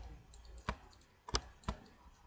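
Three sharp computer mouse clicks in a quiet room during 3D character rigging work, spaced irregularly with faint background hiss.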